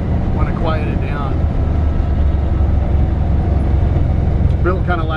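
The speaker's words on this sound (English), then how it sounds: "it's got actually a pretty aggressive exhaust on it. I love the way it sounds" A 1954 Chevrolet 3100 truck built as a shop-truck hot rod, its aggressive exhaust giving a loud, steady low rumble at idle, with someone talking briefly over it at the start and end.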